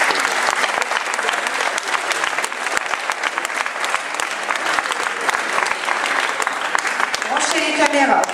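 A large audience applauds loudly, dense and steady clapping running nonstop throughout at close range.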